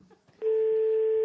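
A telephone ringback tone during a call on a French radio show, a steady electronic beep starting abruptly after faint background noise and holding loud to the end.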